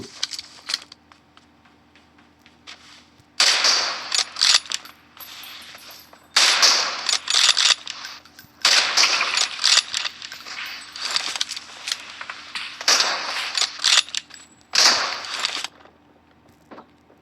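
Gunfire in a PUBG Mobile one-on-one match, heard as several loud bursts of rapid shots separated by short quiet gaps, clattering and sharp, with no talk.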